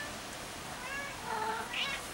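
A cat meows near a bicycle being worked on, with a couple of short, high, wavering calls over a steady background hiss, moderately close and with no clear talk.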